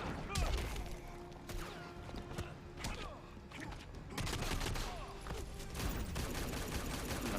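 Rifle shots in the Injustice 2 fighting game ring out as a dense, busy stream of sharp bangs and impact hits, mixed with game effects, while a commentator talks over the action.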